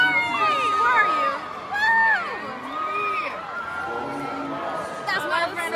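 A friend cheers loudly at a graduation ceremony, with high, rising and falling whoops and shouts standing out over a chattering crowd in a large hall, several bursts over a few seconds.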